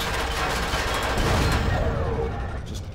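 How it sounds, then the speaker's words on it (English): Weapons fire without pause in the science-fiction survival game Empyrion Galactic Survival, making a dense, continuous rattle of gunfire with booming impacts that stays loud and then eases off slightly. "Just spraying them with as much ammunition as I can."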